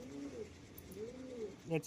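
A pigeon gives two soft, rising-and-falling coos near the microphone, followed by a short sharper call at the end.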